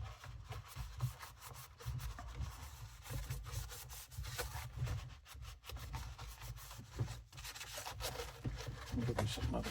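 Vacuum cleaner parts are scrubbed clean by hand, giving soft, close, uneven bursts of brisk rubbing and scratching that keep up throughout.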